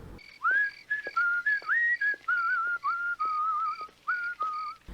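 A person whistles a simple tune in a string of short and held notes, close and clear against a quiet background, with no talking.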